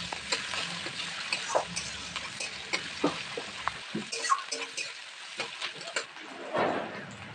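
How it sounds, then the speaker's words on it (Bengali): Chopped onions sizzle softly in a pan while a utensil scrapes and stirs them in irregular strokes, the cooking sounds faint and close with light clinks throughout. "পেঁয়াজটাকে ভালো করে ভেজে নিতে হবে।"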